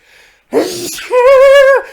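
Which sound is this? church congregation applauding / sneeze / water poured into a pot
sneeze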